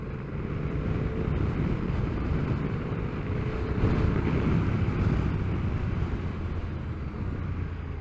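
Steady, fairly quiet road and wind roar comes from a 2022 Honda NT1100 DCT motorcycle riding down the road, with a low engine drone beneath that swells slightly midway, no talk.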